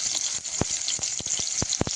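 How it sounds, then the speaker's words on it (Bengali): Chopped onion and crushed garlic fry in oil already used for frying potatoes, a constant crackling sizzle broken by sharp popping spatters, close and steady over a short stretch without speech. "আলু ভাজা তেলে দিয়ে দিচ্ছি পেঁয়াজ কুচি আর রসুন থেতো"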